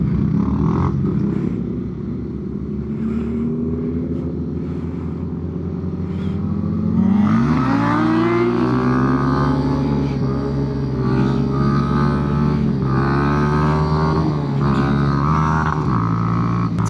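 A small motorbike engine drones along, then is wrenched to full throttle with a rising rev sweep, its pitch climbing and holding as it accelerates, loud and close amid wind noise.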